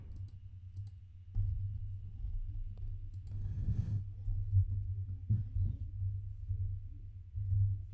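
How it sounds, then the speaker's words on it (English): Scattered mouse or keyboard clicks sound close by at a computer, sparse and irregular over a low steady hum, with a brief rustle in the middle. "Sorry about that for all that clicking."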